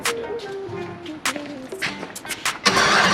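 A 5.3 LS V8 swapped into a Honda Civic cranks over with a whining, stepped starter tone, then sputters and catches into a loud, rough idle, with short bursts of people talking nearby.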